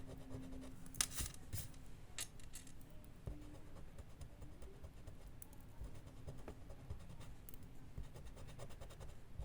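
A Tombow eraser rubs against paper to lift ink and paint-marker lines, producing faint, close scratchy strokes in quick irregular bursts with no speech.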